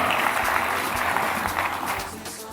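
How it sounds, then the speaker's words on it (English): An audience at a live closing ceremony gives a sustained round of applause for an honoured guest, a dense, steady wash of many hands clapping at fairly even loudness throughout, with no voices standing out. "Ladies and gentlemen, a massive round of applause for Miss Jenna Slotin."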